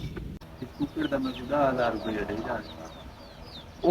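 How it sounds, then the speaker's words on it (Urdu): Pigeons cooing outdoors on a cloudy morning after rain, soft repeated bird calls close by, mixed with other bird chatter and a voice speaking over them. "یہ والے کبوتر دیکھ رہے ہیں"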